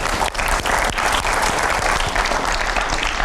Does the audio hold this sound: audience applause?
yes